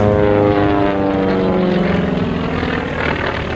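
A propeller aircraft flies at the 2013 Duxford Flying Legends airshow, its engine a loud, steady, close droning roar that holds throughout, with no voices.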